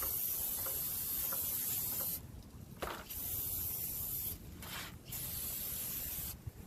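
An aerosol can hisses in three sustained bursts with short pauses between them, close and fairly quiet, spraying a Honda CR-V's front brake parts during a pad and rotor change.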